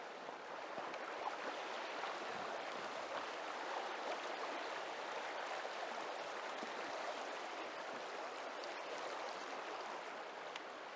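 Fast, shallow stream water rushing steadily throughout, a dense, even wash of flowing water close by with no talk.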